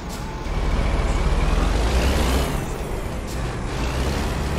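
Air brakes hiss loudly on a heavy-haul truck pulling a transformer in American Truck Simulator, a steady broad rush of released air with a deep rumble beneath it, close and unbroken, with no talking.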